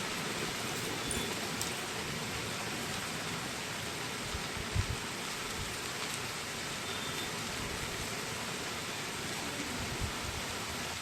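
Steady rain pours down outdoors for the whole stretch, a dense, even hiss of drops on surfaces with a few louder splats, no voices over it.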